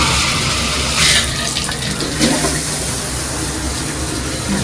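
A hotel room shower runs in a steady, dense hiss of spraying water, close and unbroken, with no talk.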